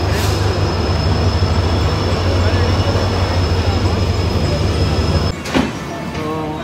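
A train departing on a trip to Goa runs loudly with a steady rumble and a high whine, then the sound shifts near the end with a squeal and clatter.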